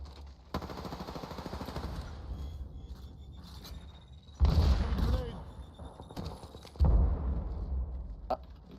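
Bursts of automatic gunfire from an Apex Legends Season 16 ranked match rattle loudly in several volleys, each a dense rapid stream of shots over steady game noise.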